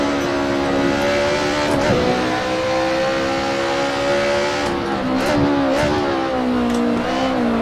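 Touring car in the Assetto Corsa racing game at Mugello, its engine droning loudly and steadily with pitch swings as it brakes and downshifts, then revs back up, continuous throughout with no talk.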